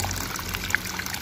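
Water runs steadily from a manually bored PVC pipe well through a connected tap, a soft continuous pouring trickle close by with small splashy accents and no talk.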